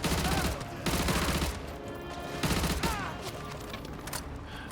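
AUG H-bar light machine gun firing in Call of Duty: Modern Warfare 2 (2009) Remastered, loud sustained automatic bursts in three main volleys with short gaps, over game ambience.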